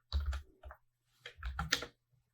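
Typing on a computer keyboard, two short close bursts of quick key clicks separated by a brief pause.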